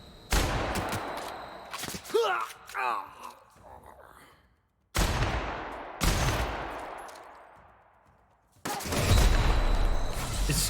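Several loud bursts of shotgun-like cannon fire from a shot cannon in The Outer Worlds video game, each shot followed by a long decaying ring, spaced irregularly with brief quiet gaps and faint vocal sounds between.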